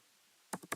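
Three quick clicking keystrokes on a computer keyboard during coding, close and crisp after a short quiet pause, unevenly spaced within less than a second.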